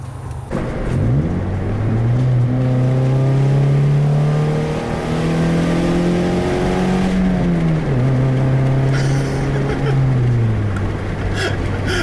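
A Toyota Yaris with a broken exhaust drives on the road, its engine droning loud and close as it revs up through the gears, dips and climbs again.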